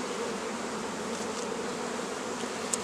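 Honey bees in an overwintered colony during a spring hive reversal, a dense steady buzzing drone that stays even and close throughout, with faint brief clicks near the end.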